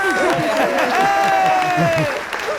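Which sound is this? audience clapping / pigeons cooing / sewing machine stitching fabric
audience clapping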